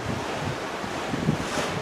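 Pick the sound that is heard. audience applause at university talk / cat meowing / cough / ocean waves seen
ocean waves seen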